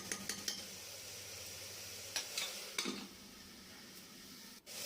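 Potato, radish and eggplant are stirred in a frying pan, soft sizzling broken by a few sharp clinks and scrapes of a utensil against the pan, quiet and close.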